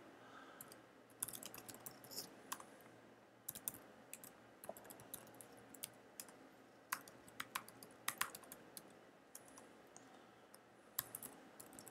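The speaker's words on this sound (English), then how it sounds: "I'll just type in the information" Fingers type on a computer keyboard, a quiet, irregular run of light clicks and key taps in short bursts with brief pauses, close by and alone.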